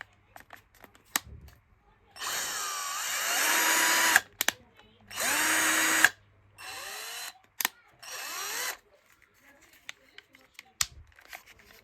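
A Zenit Profi cordless drill spins up in first gear, then in second, in several whining bursts of two to three seconds each. Short clicks and pauses fall between the runs, with no talk.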